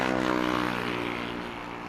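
A Boeing 787 Dreamliner arriving from San Francisco roars steadily as it comes in to land at Heathrow, a loud, close engine drone with a slowly shifting tone that fades slightly.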